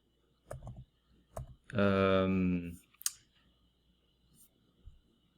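Keystrokes on a computer keyboard while retyping a command line, heard as scattered near clicks around a brief burst of speech.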